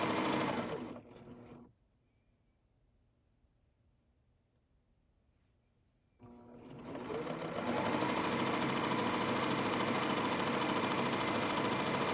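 Home sewing machine stitching a rolled edge on batik rayon fabric for a kimono, a steady close whirring hum that starts, pauses into near silence for several seconds, then resumes loudly and runs continuously.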